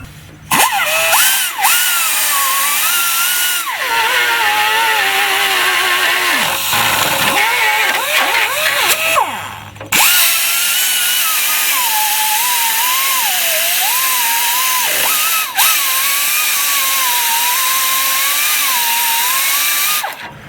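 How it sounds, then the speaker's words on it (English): Carbide burr on a power tool grinding to enlarge a hole for the lower shock bolt nut on a 2005 Dodge Ram 2500 4x4, heard as a loud, continuous high-pitched whine that wavers in pitch, with two brief breaks. "I'm going to have to take a carbide bit and enlarge that hole big enough so I can get the back of that nut on"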